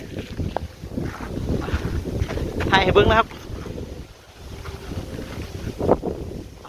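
Strong, gusting low wind buffets the microphone while a large Isan-style Chula paper kite, 100 cm, is flown over forest in cold-season wind, with someone talking over the steady rush.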